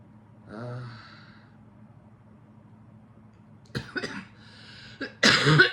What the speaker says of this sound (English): And all I'm doing is just coughing and coughing.